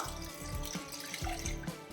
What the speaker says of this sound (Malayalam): ഇനിയിപ്പോൾ ഇതിൻ്റെ കൂടെ നമുക്കൊരു ഒന്നര കപ്പ് വെള്ളം ഒഴിച്ചു കൊടുക്കാം